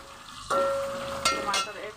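Tomatoes drop into a hot pan of frying oil, setting off a loud burst of sizzling that swells again with a couple of stirring scrapes, while a faint tone hums in the background.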